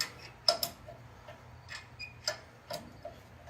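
A wrench cracks loose the two 21 mm caliper bracket bolts on a car's front brakes, giving a few sharp, faint metallic clicks and ticks spaced irregularly over a quiet background.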